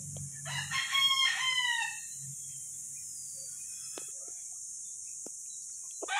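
Mt. Banahaw chickens on a farm: a rooster crows once, clear and fairly close, then fades into quiet clucking and soft farmyard ambience with a few faint ticks, all without talk.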